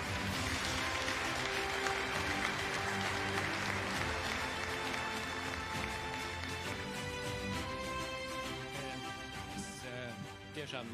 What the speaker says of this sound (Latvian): Ar aplausiem vēlreiz sagaidām Beatrice Laimdota Pastare no Sēmes pagasta Tukuma novadā.